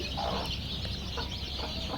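Three-day-old layer chicken chicks peep in soft, high chirps, a few scattered calls over a steady background hum.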